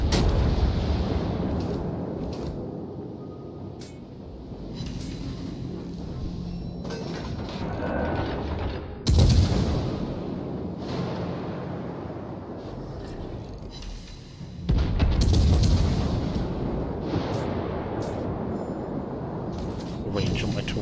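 Warship main-battery salvos booming in World of Warships, two heavy blasts several seconds apart over continuous game rumble, with someone talking throughout.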